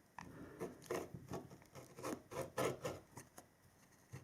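Close, faint snips and rubbing as scissors trim a fabric seam allowance down to an eighth of an inch. Several short cuts come in an irregular rhythm, with no one speaking.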